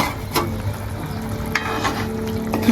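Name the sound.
peanut bhajiya added to frying curry in pan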